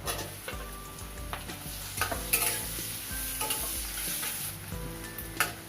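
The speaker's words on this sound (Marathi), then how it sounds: "तर कांदा पहिल्यांदा आपल्याला परतवून घ्यायचा आहे." Onion sautéing in a pan at home, a constant bright sizzle with scraping stirs and occasional clinks of the utensil against the pan, no voices.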